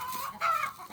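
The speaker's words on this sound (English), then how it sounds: "the chickens naturally will do stuff like this, kind of gab and talk and bark" Backyard chickens giving a short burst of soft, close clucks, two or three quick throaty calls in about a second with no talk.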